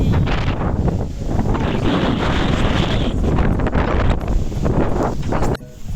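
Strong wind in stormy, rainy weather roars and buffets the microphone nonstop, loud and close, with a rushing outdoor wash beneath it.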